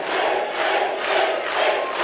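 Boxing crowd roaring behind a fighter, a dense, loud wall of cheering that swells in waves over a couple of seconds.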